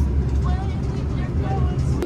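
Inside a moving bus on a Copenhagen class trip: a steady low engine rumble and road drone fill the cabin, with faint brief tonal squeaks and voices chattering over it.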